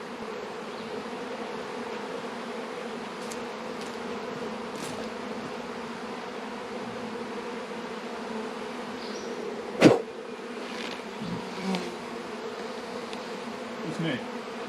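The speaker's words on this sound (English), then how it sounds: "there are bees in that tree" Bees swarming in a tree outdoors give a steady, continuous buzzing drone throughout, with a few faint distant knocks and a brief sharp click near the middle.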